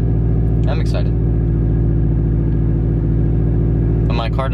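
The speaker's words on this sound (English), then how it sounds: "my car does have to warm up though" A Subaru WRX Stage 1 hatchback idles while warming up, with a loud, steady, close engine drone throughout. Brief voices come in near the start and again at the end.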